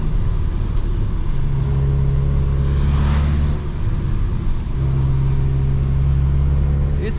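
A manual Volkswagen Golf R drives a hillclimb road near Trento, its engine droning loudly and steadily up close with exhaust and intake noise, dipping briefly as the revs drop before rising again.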